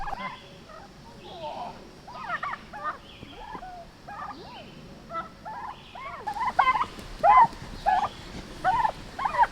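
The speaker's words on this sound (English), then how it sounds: "These are the turkeys." Several turkeys gobble in bursts of rapid, warbling calls, some close and loud, over a faint background hum.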